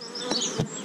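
Honeybees buzz around an open beehive during inspection, a close, steady insect drone with a few louder passes of bees flying near.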